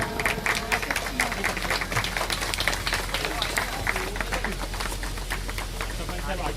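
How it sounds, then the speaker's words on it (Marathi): Crowd applauding at a Republican Sena political gathering in Ulhasnagar, brisk clapping mixed with voices and general crowd noise, steady across the whole stretch. "जोरदार टाळ्या।"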